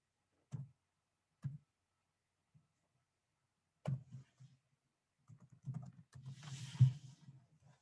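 Keys on a computer keyboard are tapped in short bursts, a few isolated clicks at first and then a quicker cluster of typing, close and quiet with silence between strokes.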